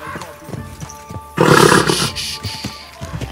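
In the Kingdom Come: Deliverance 2 game, a horse gives a loud, close neigh and snort in one burst, with scattered hoof clops and soft thuds before and after it.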